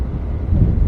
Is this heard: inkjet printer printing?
no